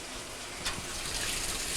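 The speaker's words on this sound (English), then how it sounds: "We can see that the water pressure is good coming in." Water streams into the tub of a Kenmore washing machine filling at its lowest level, a steady, fairly quiet broadband gush that runs continuously with no voices.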